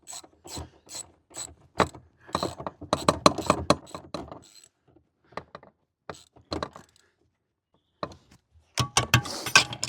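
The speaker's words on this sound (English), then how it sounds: "So we're just going to nip up these bolts." Bolts being tightened on MG B seat runners: bursts of quick ratcheting clicks and metallic rubbing come close and loud, separated by short pauses.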